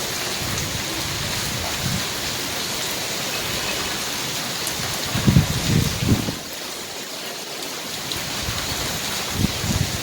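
Steady rain pours during the season's first rainfall in Hyderabad, a dense continuous hiss with a few heavier gusts and splashes rising and falling.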